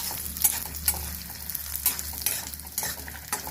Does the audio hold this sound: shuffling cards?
no